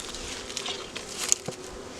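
Honeybees at an opened hive during spring feeder changes, a faint steady buzz of many insects with a few brief louder passes close by, no talking.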